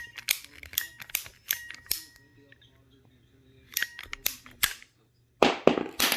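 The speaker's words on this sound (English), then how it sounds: "Make sure you're right on the line with that blade, and go ahead and cut." Sharp snapping clicks of a ratchet cutter biting through PVC pipe, a rapid run of crisp cracks, a pause, then another burst and a final loud snap, close and clear.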